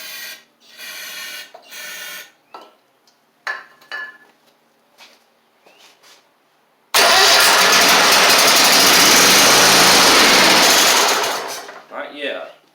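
Toro Z2550 zero-turn mower engine with a fuel system fault cranks in short bursts amid scattered clicks and a few words. It then catches and runs loud and steady for about four seconds before cutting out, followed by brief talk.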